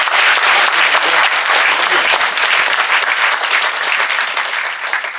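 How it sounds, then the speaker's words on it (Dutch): A studio audience at a Dutch talk event on corporate social responsibility claps heartily, a dense, loud burst of applause that fades slightly toward the end. "Geef ze een hartelijk applaus."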